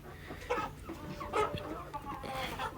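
Desi hens on a poultry farm cluck and murmur close by in a continuous overlapping chorus, with a few sharper calls rising above the flock.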